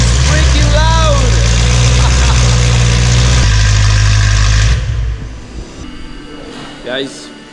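A BMW M3 with an Armytrix valved exhaust rumbles loudly at idle for several seconds, then the engine noise drops away sharply while a person talks over the tail end.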